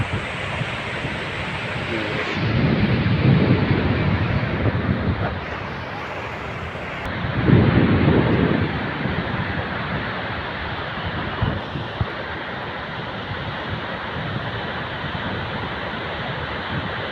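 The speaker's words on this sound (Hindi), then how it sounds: "बहुत जगह से जल बह रहा है, पूरा झरना बहुत ही सुंदर।" A waterfall on the Narmada near Jabalpur roars steadily as water pours down from many places, a broad continuous rush with a person talking over it and brief louder surges.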